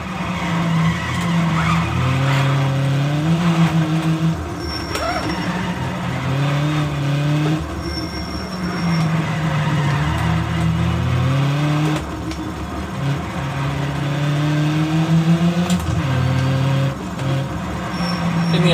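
A Nissan 240SX driven hard in a driving simulator game on the Deals Gap road: a loud, continuous engine note climbs and drops through gear changes, with tire squeal running throughout.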